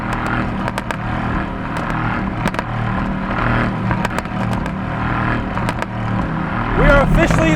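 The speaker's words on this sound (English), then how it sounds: "I love how this car pops." A 2018 Mercedes-AMG GT C Roadster on the road lets off sharp exhaust pops and crackles on and off the throttle, scattered bursts over a rumbling engine drone and road noise, close and loud.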